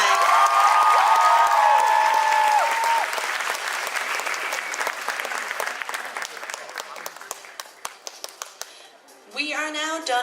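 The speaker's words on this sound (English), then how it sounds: "Give them all a big round of applause one last time." A large audience gives sustained applause at the J-popcon 2019 cosplay craftsmanship contest. The dense clapping fills the room and slowly thins to scattered claps, with a voice audible near the start and fresh noise rising at the end.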